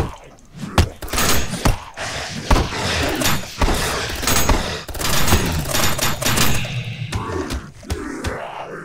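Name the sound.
gunfire in video game Dead Dozen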